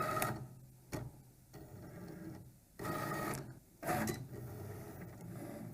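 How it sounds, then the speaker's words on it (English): A Cricut cutting machine scans the black registration box before cutting labels, whirring and clicking mechanically in short bursts of carriage movement separated by quieter motor hum, faint and close, with no talk. "the machine is going to scan that black box and make sure it knows where to cut the labels"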